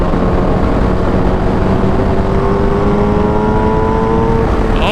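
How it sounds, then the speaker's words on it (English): A Suzuki Hayabusa motorcycle engine pulls away hard, a loud continuous roar that climbs steadily in pitch as the bike accelerates, with no talk over it. "So once it's engaged, the bike kind of just goes forward super fast."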